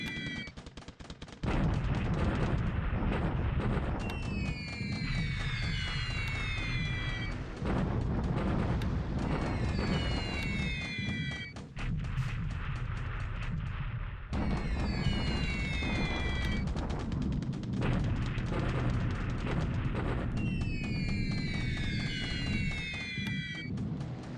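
Night bombing in the War in the Pacific strategy game fills the scene with dense, continuous explosion and gunfire effects. Rising whistling tones of falling bombs repeat over the rumble at a loud, steady level throughout.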